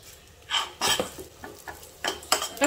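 Oats roasting in ghee in a pan: a spoon scrapes and knocks against the metal in irregular strokes, close and fairly loud, over a faint sizzle, with no talk.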